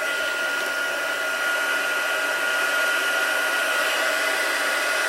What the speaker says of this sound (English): Heat gun, turn your volume down if you're listening, on loud.